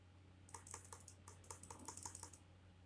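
Quick clicks on a computer keyboard as a short code is typed, a brief burst of about a dozen close, soft keystrokes in a quiet room.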